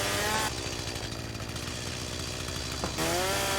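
In the game Junkyard Truck, a chainsaw saws through a tree with a loud, constant motor drone that drops briefly and then climbs back to a high revving whine at the end.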